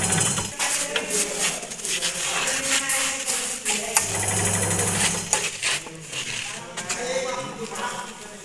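A lathe turns at 1000 rpm in a workshop, a loud continuous mechanical whir with rattling and clattering, while someone talks over it throughout.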